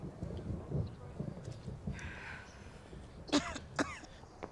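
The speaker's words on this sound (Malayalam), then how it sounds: "കണ്ടോ ചുമക്കുന്നത്?" An elderly woman coughs on a cold, rainy-looking evening, two sharp hacking coughs near the end after a quiet stretch with faint throat sounds and muffled low voices.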